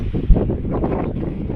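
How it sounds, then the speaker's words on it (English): Strong wind in Capitol Reef National Park buffets the microphone in a steady low roar with gusty swells, close and loud throughout. "It's getting really windy, as you can probably hear."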